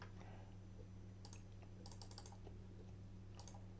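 Quiet clicking of keys being pressed on a calculator as the number 1000 is entered, a few short bursts of taps against a steady electrical hum, no voices.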